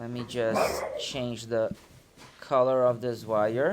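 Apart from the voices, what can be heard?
dogs barking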